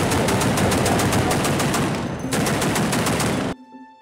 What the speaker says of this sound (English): They were firing at us from buildings.